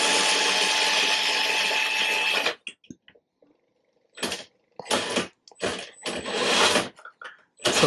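An HB Toys R1001 Beluga RC truck's electric motor revving in high gear, a sustained whine that cuts off, followed by several short bursts of whirring with silent gaps between them.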